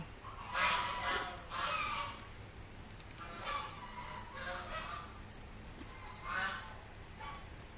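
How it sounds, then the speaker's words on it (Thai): Several geese honk in irregular bursts at moderate distance, their nasal calls repeating over a steady outdoor hiss. "เสียงห่าน"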